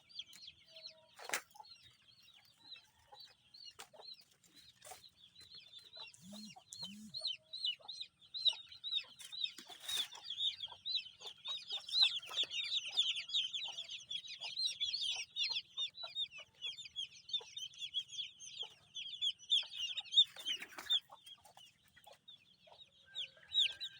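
A flock of chickens clucks and chatters continuously at moderate distance, with occasional wing flaps and louder squawks rising over the busy background.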